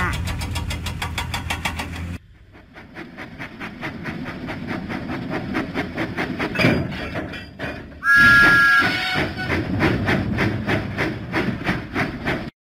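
Thomas the Tank Engine chuffs in a children's video game, with steady rhythmic puffs running under a narrating voice and game music, broken by a brief pause and a short whistle-like tone.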